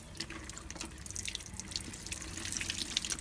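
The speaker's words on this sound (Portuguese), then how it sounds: "vou ligar a torneira" Water runs steadily from a tap onto hands rubbing red sand, a close, continuous splashing with small drips and no voices.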